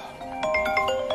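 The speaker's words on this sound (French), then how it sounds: "Bon, désolé pour le téléphone" A telephone rings with a bright electronic melodic tone, a short burst of repeating chimes, loud and close in a quiet room.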